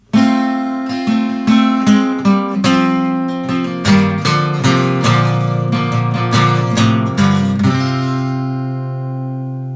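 Electric guitar riff of plucked notes in a repeating pattern, ringing out loud and sustained, with the last note fading away.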